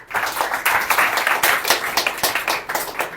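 A group at a classroom-style activity applauds, with loud, close, continuous clapping and sharp individual claps standing out in an uneven rhythm.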